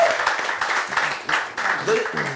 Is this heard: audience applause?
yes